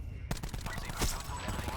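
Aircraft guns rattle in a rapid, dense burst throughout a video game air combat sequence, loud and sustained, with a sharper surge near the middle.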